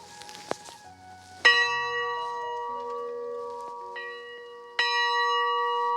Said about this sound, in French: ce son de cloche